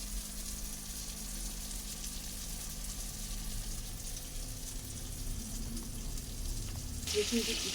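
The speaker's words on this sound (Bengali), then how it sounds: "প্রথমত চিকেনটা তেল দিয়ে ভেজে নিচ্ছি" Chicken fries in oil with a steady, close hiss and crackle that holds throughout, with a brief clatter near the end.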